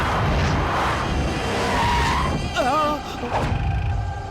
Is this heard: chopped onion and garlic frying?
no